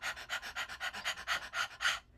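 Voice imitating a small dog panting, about ten quick rhythmic breathy pants in a steady run, close and fairly quiet, ending abruptly.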